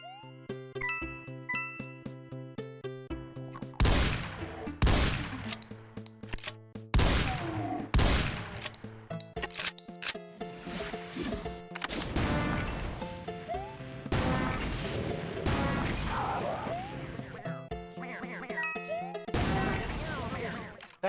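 Trumpet weapon shots go off in the Doom mod Golden Souls 2, repeated loud bursts and crashes with bright jingling, layered over game music and sound effects.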